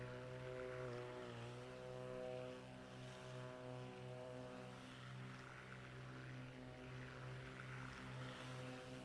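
Steady droning propeller hum of a Black Square Baron twin-engine aircraft in a flight simulator, cruising over the Adriatic, with layered engine tones that waver slightly and stay constant and close throughout.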